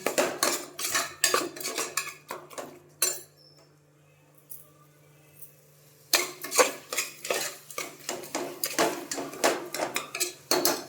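Metal spatula scraping and clanking in a pan while salted ingredients are sautéed in a home kitchen, in busy rhythmic bursts that pause for a few seconds, then resume loud and close.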